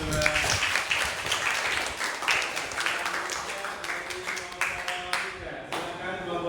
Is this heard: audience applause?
yes